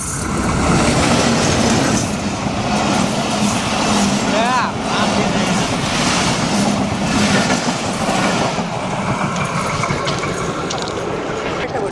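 A train rumbles past nearby on the railway line at Konabari, Gazipur, with steady rolling clatter and broadband roar, while people talk excitedly over it.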